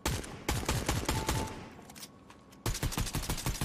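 Rapid bursts of assault rifle fire in a shooter game played on controller, loud and dense for the first two and a half seconds, a short lull, then another sustained burst to the end.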